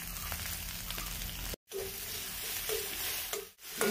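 Vegetables frying in a pan with salt and turmeric, a steady close sizzle of hot oil broken by two brief silent gaps and a few light stirring scrapes, with no voices.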